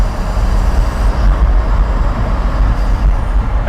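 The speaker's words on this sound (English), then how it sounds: "You can hear the turbos so distinctly." A loud, steady engine roar from inside a hypercar, with a continuous broadband rush and a faint turbo whistle on top.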